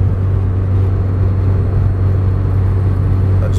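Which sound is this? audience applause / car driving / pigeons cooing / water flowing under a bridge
car driving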